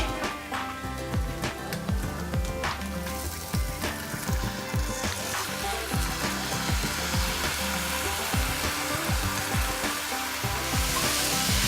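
Short grain rice frying in oil-separated masala for a fish head pulav, a steady close sizzle with repeated scraping stir strokes, no talk over it.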